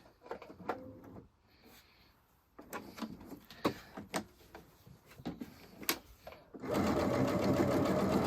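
A sewing machine stitches a Christmas placemat in short, sharp bursts with pauses and handling clicks, then runs in one loud continuous stretch at the end; no speech.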